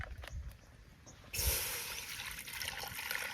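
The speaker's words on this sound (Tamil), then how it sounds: "ஃபஸ்ட்டு தண்ணியை ஊற்றிக்கலாம்" Water pours steadily into a pot for boiling eggs with a bright splashing rush that starts abruptly partway through and continues to the end.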